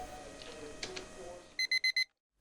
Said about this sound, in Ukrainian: Знову будильник.